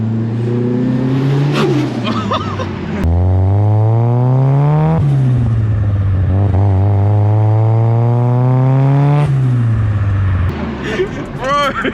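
A Nissan S15 revs hard with a loud, rasping exhaust, several rising and falling engine sweeps climbing and dropping in pitch close by, with faint voices underneath.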